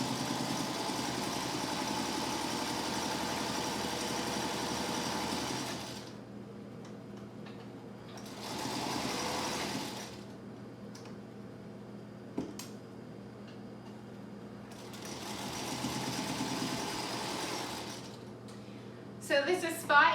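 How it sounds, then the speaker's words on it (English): A sewing machine stitches binding onto a fabric mask, a steady mechanical whirring run that stops and restarts in several stretches with quiet gaps and a few small clicks. "and continue to sew"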